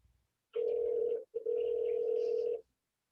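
Telephone tone while dialing into a Zoom call, two steady beeps, a short one and then a longer one split by a brief gap, clear and alone with no talk.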